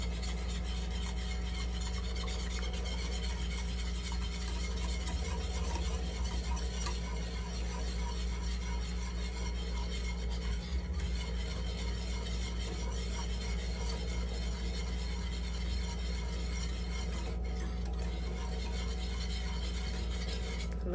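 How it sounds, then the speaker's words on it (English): A spoon stirring a thick, cloudy sugar solution for rock candy, steady scraping and swishing strokes against the container over a constant low hum, no voices. "We're gonna stir it up."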